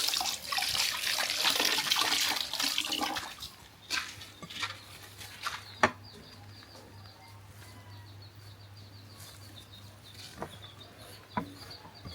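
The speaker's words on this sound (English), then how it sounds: "So I want to wash my hands." Water runs from a tap for a few seconds as hands are washed, then stops, leaving a quieter room where a chicken or bird calls faintly now and then in the background.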